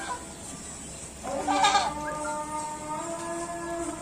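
A two-month-old male Peranakan Etawa goat kid bleats once, a clear, wavering call of about half a second, fairly close and standing out over a quiet pen background with faint fainter calls trailing after.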